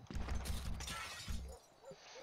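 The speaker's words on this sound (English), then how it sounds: "Tearing down all the glass here." Glass panes being smashed and torn down during deconstruction in a video game: a burst of crashing, tinkling shatters over about a second and a half, close and fairly quiet, then fading into scattered fragments.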